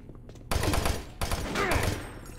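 Bursts of gunfire from an enemy in the video game Doom 3, two loud clusters of rapid cracking shots separated by a short pause, with game effects ringing between them.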